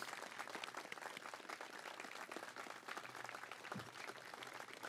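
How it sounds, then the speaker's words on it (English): An outdoor crowd at a firefighter memorial service claps steadily for about five seconds, a dense, even patter of many hands heard from a moderate distance. "If we could give them a round of applause."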